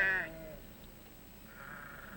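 A sheep bleats once, briefly and fairly clearly, against a quiet outdoor background, with a fainter second bleat toward the end.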